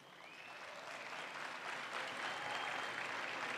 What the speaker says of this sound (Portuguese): Por favor, gente, uma salva de palmas para Joy Valley